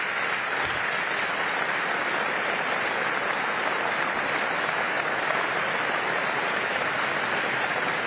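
Applause and scattered cheers fill a press room of journalists gathered for the pope's first address to the media, a dense, steady patter of many hands sustained throughout at moderate loudness.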